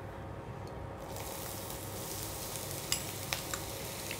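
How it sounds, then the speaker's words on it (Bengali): Chopped onions go into hot oil already seasoned with cinnamon, cardamom and cloves. A steady sizzle fills the clip, with a few sharp clinks of a utensil near the end. "এবার যাচ্ছে পেঁয়াজ কুচি।"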